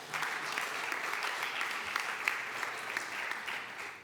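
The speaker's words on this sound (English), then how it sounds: "I think we can applaud to him" A room full of people claps steadily, a dense, continuous patter of applause that fades slightly at the end.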